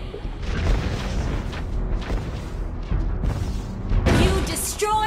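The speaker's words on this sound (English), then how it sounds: "You destroyed a turret." Turret destruction in the Mobile Legends game Miya Classic: dense, booming game effects with thuds and bursts build to a loud crash near the end, over continuous in-game audio.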